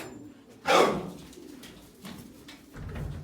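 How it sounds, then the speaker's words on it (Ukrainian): Sport pigeons flutter and coo close by in a pigeon loft, with a loud burst of wing flapping early on and softer rustling and cooing after. "Самі спортивні голуби."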